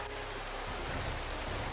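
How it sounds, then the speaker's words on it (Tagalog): Steady, dense hiss of heavy rain pouring down, filling the whole clip with a constant rushing wash of noise. "Yan tol, sobrang lakas ang ulan tol."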